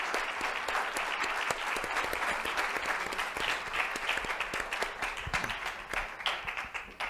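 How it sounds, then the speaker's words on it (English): An audience applauding steadily, a dense wash of many hands clapping at once that holds strong for the whole stretch. "he deserves a big applause from all of us"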